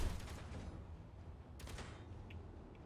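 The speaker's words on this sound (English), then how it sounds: "Those cannons, let me tell you." Cannons fire in Space Engineers, heard as distant booming reports over a low rumbling background. A sharper burst breaks through midway.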